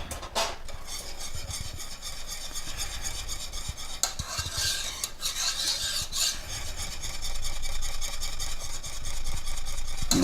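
A spoon stirs thickening chocolate cream pie filling in a pot on the stove, giving a continuous scraping, rasping rub with a soft sizzle underneath, steady and close for the whole stretch.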